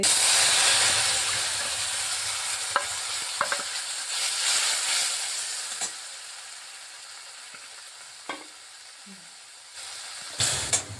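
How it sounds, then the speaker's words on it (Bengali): Whole cumin seeds fry in hot oil for a Bengali bottle gourd recipe. A steady broadband sizzle fades gradually, broken by a few sharp pops and utensil taps, and there is no talking. "গোটা জিরে ভালোভাবে মশলাটাকে বেজে নিচ্ছি জিরাটা ভাজা"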